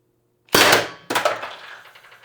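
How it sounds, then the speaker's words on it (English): Two sharp shots from a Byrna LE launcher fired into a backing, each a loud, close crack with a clanging impact and ringing decay, about half a second apart. "I'm gonna shoot into the backing instead of trying for the targets"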